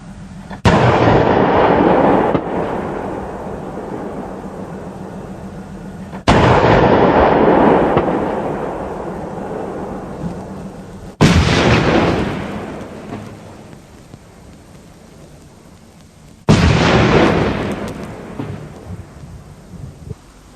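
A CV90/40 vehicle's Bofors 40mm L70 cannon fires programmable ammunition in four heavy, widely spaced booms, each a sharp loud blast trailing into a long rolling echo that decays before the next shot.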